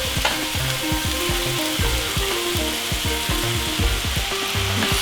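Pineapple fried rice with egg is stir-fried in a hot pan for a Thai khao pad sapparod, with dense continuous sizzling and rapid repeated scraping of a spatula against the pan, close and loud throughout, no talking.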